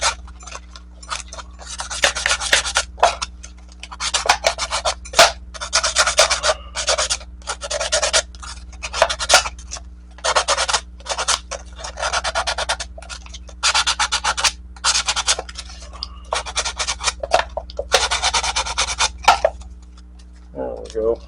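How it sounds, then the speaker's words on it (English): Old sandpaper roughing up the edge of a part on an emergency hot water heater repair, heard as bursts of close, harsh back-and-forth scratching with short pauses between strokes and a steady low hum underneath. "if you got any old sandpaper laying around, just take and rough up this edge"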